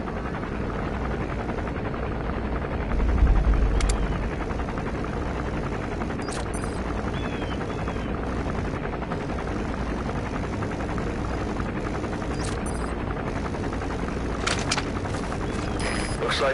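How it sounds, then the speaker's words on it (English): A helicopter flies on patrol in Metal Gear Solid 5, a steady, dense rotor-and-engine roar that holds constant throughout, with a brief low thump early on and a few faint clicks over the drone. "Looks like the arms dealer's chopper is going to patrol for the security forces."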